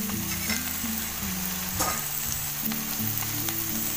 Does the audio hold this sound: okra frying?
yes